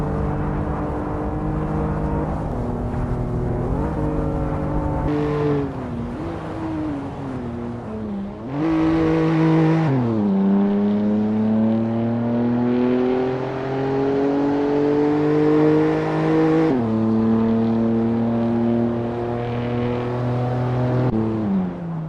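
Citroen C1 racing cars in the Assetto Corsa sim lap Oulton Park, one engine droning loud and close, rising in pitch through each gear, dropping sharply at upshifts, with a brief lift and rev near the middle.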